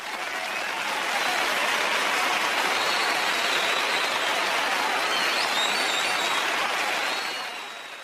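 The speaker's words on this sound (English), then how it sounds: "The studio audience exploded into applause." Studio audience at a television show bursts into loud, sustained applause lasting several seconds, dense clapping that swells quickly and holds steady before easing slightly at the end, with no talking over it.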